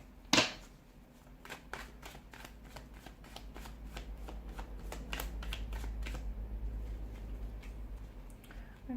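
Tarot cards being shuffled by hand in quiet, steady bursts of soft riffling and slapping, with a sharp card snap near the start and a low room hum underneath.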